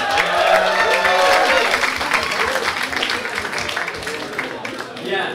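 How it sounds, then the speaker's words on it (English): A crowd at a comedy gong show breaks into loud applause mixed with cheers and whoops, a dense sustained roar of clapping that eases slightly toward the end, with some voices shouting over it. "Give him a round of applause,"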